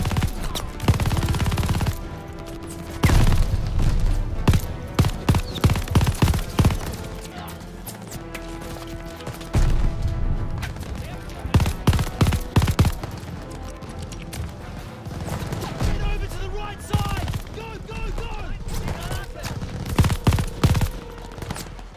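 A light machine gun fires in a Call of Duty El Alamein battle, sustained rattling bursts broken by short pauses across the whole stretch, loud and near amid other battlefield gunfire.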